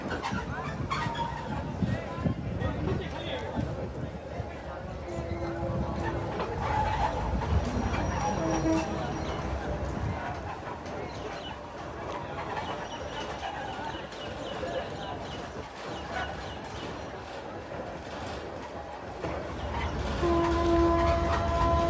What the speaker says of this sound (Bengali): সীতাকুণ্ড রেল স্টেশন থেকে চট্টগ্রাম অভিমুখী চট্টগ্রাম মেল ট্রেনটি এখন 2 নং প্ল্যাটফর্ম থেকে ছেড়ে যাচ্ছে।